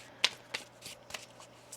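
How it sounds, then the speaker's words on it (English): Tarot cards shuffled by hand in a quiet room, giving four or five crisp riffling snaps spaced a fraction of a second apart over a faint steady hum. "One more shuffle here."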